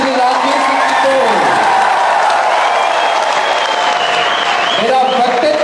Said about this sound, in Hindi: एक बार आकाश पर तालियां बजा करके मारवाड़ का प्यार कीजिएगा